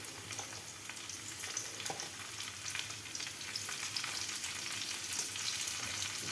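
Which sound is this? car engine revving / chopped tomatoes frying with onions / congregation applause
chopped tomatoes frying with onions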